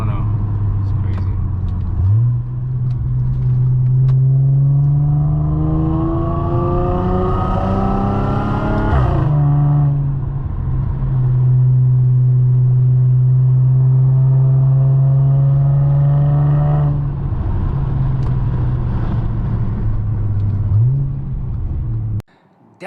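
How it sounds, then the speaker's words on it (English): An Audi S4 B8.5 fitted with an ECS valved exhaust drives past, its engine rumbling steadily, then revving up in rising pulls before settling back to a deep, loud, close drone that repeats and fades at the end. "Those are drive-by revs, pulls, and all that stuff with valves open, valves closed."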